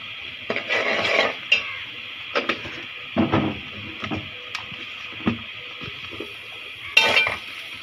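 Chickpeas being stirred and fried in a pan, with repeated scraping and clinking of a utensil against the metal in short bursts over a steady background hiss, fairly close and moderately loud.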